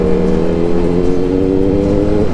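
Motorcycle engines on a Sunday group ride rumble loudly and continuously at close range, a deep steady drone with no pauses.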